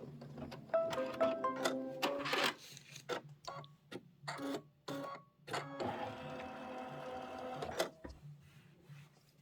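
Embroidery machine stitching a tack-down line on a crossbody bag project, with rapid mechanical needle clatter and whirring in bursts separated by brief pauses, close by.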